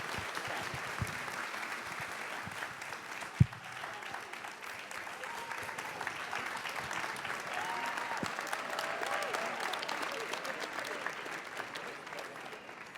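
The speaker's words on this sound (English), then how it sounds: "A big round of applause, please, for our panel." An audience at a summit gives a panel a sustained round of applause. The clapping is steady and fairly distant, runs the whole length, and is broken by one sharp knock.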